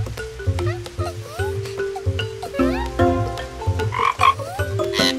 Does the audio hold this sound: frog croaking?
yes